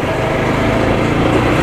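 A TVS Apache RTR 200 4V motorcycle engine runs loud and steady at close range, its buzzing drone holding a constant pitch without clear rises.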